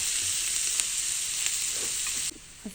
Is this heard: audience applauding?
no